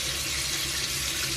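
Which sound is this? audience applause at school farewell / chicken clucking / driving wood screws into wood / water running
water running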